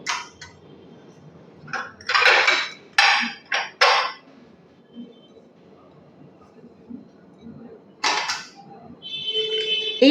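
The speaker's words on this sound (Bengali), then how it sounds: "এখন আমি একটা প্লেট নিয়ে নেব" Clattering and knocking of a plate being picked up and handled in a kitchen while baking a palm fruit cake, several sharp ceramic clinks and scrapes in short bursts with quiet gaps between.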